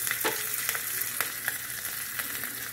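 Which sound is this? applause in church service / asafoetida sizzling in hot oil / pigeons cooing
asafoetida sizzling in hot oil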